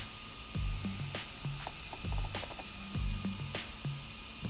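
The electric motor of a Traxxas Slash LCG RC car whirs in short repeated bursts, each quick spin-up followed by a falling wind-down, fairly faint and close.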